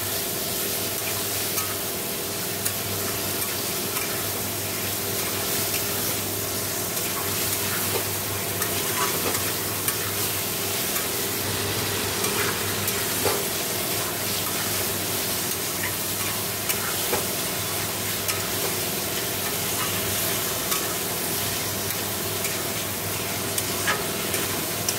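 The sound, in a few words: spices and masala being sautéed and stirred in a pan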